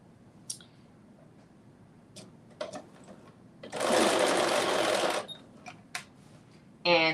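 A sewing machine stitches a knit crop top shoulder seam in one short, loud burst lasting about a second and a half, with a second brief run at the end and scattered small clicks between.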